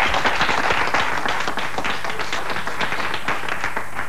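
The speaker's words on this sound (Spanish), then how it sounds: "Por favor, Juan Carlos, fuerte el aplauso." An audience at a televised variety show in Argentina applauds steadily, dense hand clapping from a crowd at close range that holds at an even level throughout.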